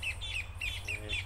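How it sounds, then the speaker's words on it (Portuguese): A rufous cacholote gives repeated harsh, squawking calls, about five short bursts in quick succession, fairly close against a low rumbling background near a cornfield. "Isso aí é a casaca de couro."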